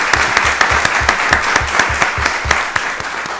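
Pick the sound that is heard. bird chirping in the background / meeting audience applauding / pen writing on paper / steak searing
meeting audience applauding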